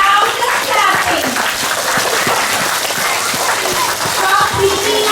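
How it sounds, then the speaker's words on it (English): Sustained, dense applause from a crowd of schoolchildren at an assembly, a continuous close wash of clapping with faint voices mixed underneath. "We want to loudest clapping."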